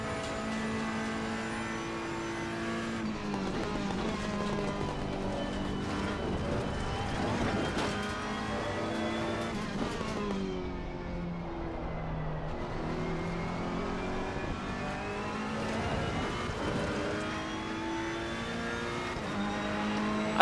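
Race car on a practice lap, its engine revving hard and continuously through gear changes with rising and falling pitch, loud and close with no talk throughout.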